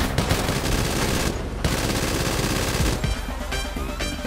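Rapid automatic gunfire from GTA 5 rattles loudly in a dense burst, breaks for a moment, then starts again with sharp repeated shots and no talk over it.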